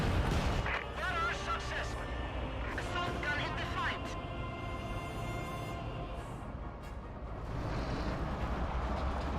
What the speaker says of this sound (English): We do get a Katyusha barrage somewhere.